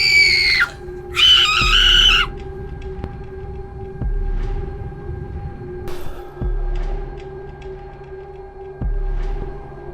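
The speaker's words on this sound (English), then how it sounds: "an eerie, blood-curdling scream rips through the forest." A shrill, eerie scream echoes in a dark forest at night, two loud wavering bursts at the start, then quiet with faint thuds and a steady low hum.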